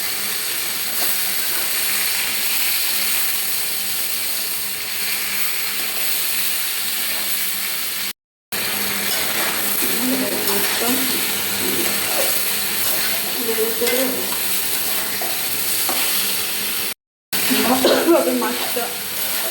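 Pieces of rita fish coated in spice paste go into a hot pan to be fried down, giving a steady, loud hiss of sizzling oil that runs almost unbroken, with faint voices beneath it.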